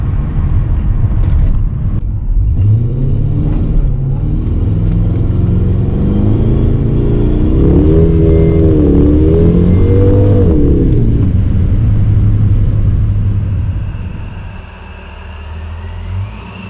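A 2003 Holden Monaro with a 5.7 litre engine drives and revs close up, a deep rumbling V8 note swelling through several revs before easing off as it slows near the end.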